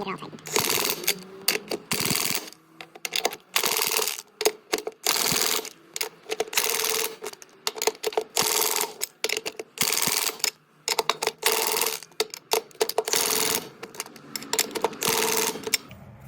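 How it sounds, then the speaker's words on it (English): An impact wrench on its lowest setting tightens lug nuts on a Gravely Compact Pro zero-turn mower wheel fitted with a wider tire, in repeated short rattling bursts separated by brief pauses. "I'm going to put my impact on the lowest setting, and we'll give each one a couple turns and get it all tightened"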